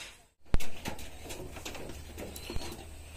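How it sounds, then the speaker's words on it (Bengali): A female pigeon gives soft, low cooing calls, quiet and close, with a sharp click near the start and faint background noise between calls. "এই সেই মাদি কবুতর এইটা"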